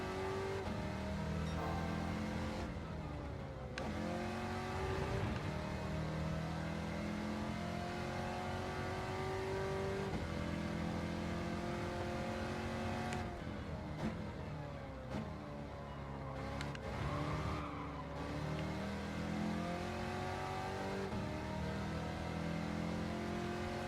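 Racing car engines roar in Gran Turismo 7 while a Mustang and a Barracuda are overtaken, with a loud continuous note rising and falling through gear changes and brief dips as the car lifts off.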